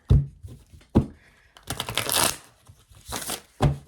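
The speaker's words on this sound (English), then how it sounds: "one more shuffle and then we'll start going" Tarot cards riffle and slap together in several quick shuffles, close up, with sharp taps between bursts and no talking.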